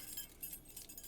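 Silver bracelets jangle close up in a brief, quiet burst of thin metallic clinks and rattles, with no talking.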